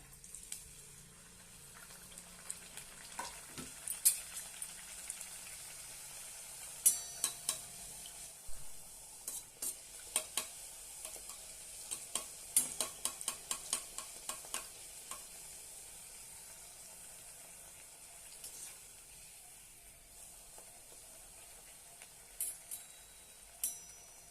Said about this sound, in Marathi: आता आपलं तेल गरम झालेलं आहे आता आपण त्यामध्ये ह्या पुऱ्या तळून घेऊया